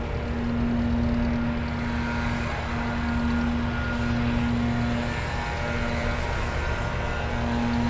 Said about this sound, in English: Typhoon and Chippy formation takeoff from Willie Warner.